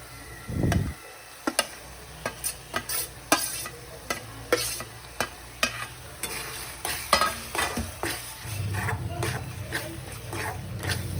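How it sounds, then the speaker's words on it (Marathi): Red chilli powder and Satara onion-garlic chutney being roasted into masala in a pan: a run of sharp spoon scrapes and clicks over a low sizzle, the frying swelling louder near the end, with a dog heard faintly in the background. "हे व्यवस्थित भाजून घ्यायचं सगळं"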